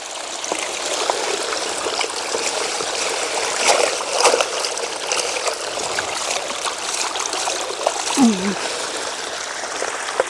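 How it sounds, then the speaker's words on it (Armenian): Water is poured over washed leafy greens, splashing and trickling over the leaves in an uneven stream, with a voice speaking faintly at moments. "սա լվացի և սրանց վրա էլ ջուր լցնեմ չթառամի"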